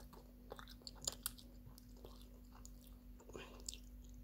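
Close, faint chewing of a s'more flavored jelly bean, soft moist bites and crunches in irregular rhythm over a low steady hum.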